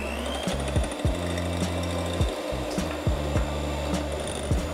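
A hand mixer beats egg whites as sugar is added little by little for a chilled family dessert, its motor humming steadily and loudly with periodic knocks and shifts in pitch as the beaters move through the bowl.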